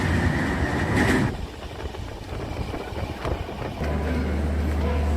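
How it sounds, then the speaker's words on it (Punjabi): A passenger train pulls into Amritsar railway station in Punjab, its loud, steady rumble and rattling carriages giving way to a deep, low hum as it slows, with no talking. "ਲੋ ਜੀ ਆਪਣੀ ਟ੍ਰੇਨ ਪਹੁੰਚ ਗਈ ਆ ਅੰਮ੍ਰਿਤਸਰ ਸਟੇਸ਼ਨ ਤੇ"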